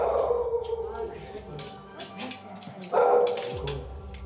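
American Staffordshire terriers bark and yip indoors in an apartment, a few short barks and whimpers mixed with people talking nearby.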